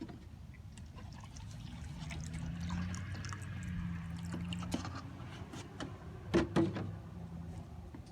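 Distilled water pours into a cup of baking soda, a soft continuous trickle and gurgle that runs throughout at low level, with a couple of brief clinks near the end.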